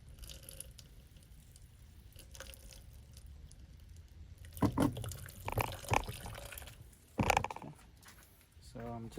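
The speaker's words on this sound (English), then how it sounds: "you can see the water is dripping out." Water mixed with vinegar drips from the drain of a Frigidaire EFIC220 countertop ice maker during cleaning, heard up close as faint irregular drips and wet squishy trickles, with a few louder splashy bursts midway.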